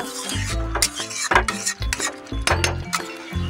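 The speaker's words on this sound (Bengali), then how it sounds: "এরপর ভালো করে কষে নেব।" Spice masala with yogurt stirred over low heat in a pan while cooking jackfruit curry, close metal spoon scrapes and clinks in uneven strokes over a faint sizzle.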